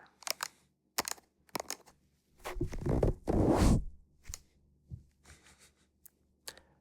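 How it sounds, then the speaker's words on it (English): Scattered close clicks and soft handling noises as a pop filter is taken off a microphone, a longer scraping rustle in the middle as it is worked free, then a few light taps. "we're going to take off the pop filter"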